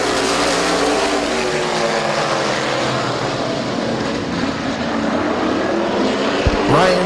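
Late model race cars take the green flag at Midvale Speedway, a dense, loud roar of several engines revving and accelerating together, sustained throughout with a brief sharp transient near the end.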